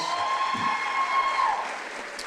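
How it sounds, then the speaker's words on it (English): Applause from an audience at an employee gathering, a steady wash of clapping that holds evenly for a couple of seconds before easing slightly, with a faint tone running underneath. "I'd like to give her a round of applause."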